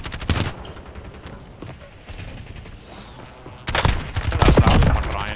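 Rapid gunfire in the Warzone video game, loud bursts of automatic fire with a dense volley at the start and a heavier sustained barrage near the end, under a steady background of game noise.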